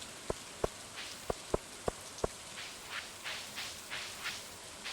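Rain falls steadily in the Stardew Valley video game, a soft continuous hiss with faint patters, overlaid by several sharp, evenly spaced clicks early on.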